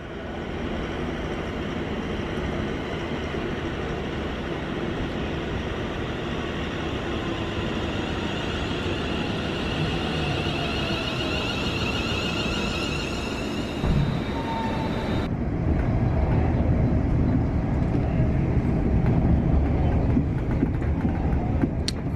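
A Tesco freight train rumbles past on a line toward Bedford and Northampton, a steady broadband roar of wagons with faint squeals, growing heavier and closer in its second half; no voices.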